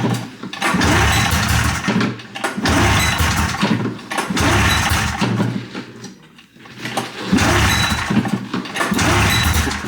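A Polaris Indy XLT 580 snowmobile engine cranks and sputters loudly in repeated bursts, each attempt rumbling for a couple of seconds before dropping off, close by with no talking.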